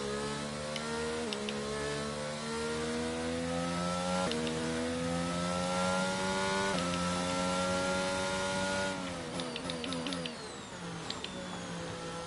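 A Formula 1 car in the F1 22 racing game around Singapore, with its engine whining high and rising through the revs. Several sharp drops mark quick downshifts, and a crackling burst of shifts comes near the end, loud and continuous.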